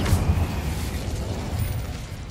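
Incendio fire spell cast in the Hogwarts Legacy video game, a sudden loud burst of flame that settles into a rumbling, roaring fire with low booming texture for a couple of seconds.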